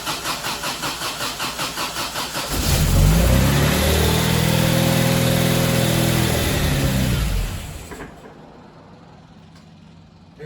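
An MGB engine cranks with a rhythmic starter whir, catches and runs roughly with choke out for several seconds, then dies away into near silence.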